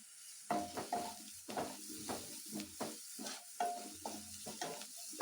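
Masala frying in oil in a pan for egg paratha: repeated stirring scrapes and bursts of sizzle in an uneven rhythm, close and moderately loud, with no talk.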